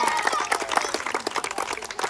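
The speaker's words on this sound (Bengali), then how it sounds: "জোরে তালি হবে বিজয় পুরস্কার জোরে তালি" A crowd clapping for the winner of a village ring-and-target game, brief scattered applause at moderate distance mixed with voices.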